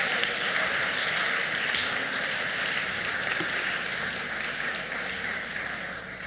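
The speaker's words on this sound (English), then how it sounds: "Let's give everybody a round of applause." Graduates and guests at a medical school class day ceremony give a long round of applause, a dense steady roar of many hands clapping that gradually softens toward the end.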